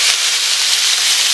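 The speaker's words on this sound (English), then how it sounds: "oh, you hear that sizzle guys? You hear that sizzle? Going down, it's sizzling." Chicken breast sizzling in a hot pan during meal prep, a steady, loud broadband hiss and crackle that fills the whole stretch without pause.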